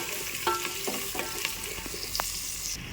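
Sliced onions and green chillies frying in hot oil in a pan, a steady soft sizzle broken by a few clicking stirs and scrapes of a spatula, no voices.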